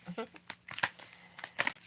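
Tarot card decks being handled and shuffled, a quiet close-up series of crisp riffling snaps and papery slides in uneven bursts, with soft breathy sounds between.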